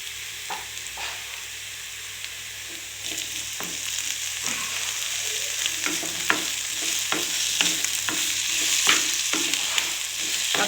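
Tomatoes with ginger garlic paste sautéing for mushroom sukka, a continuous sizzle punctuated by repeated spatula stirs and taps that grow busier toward the end, with no talking.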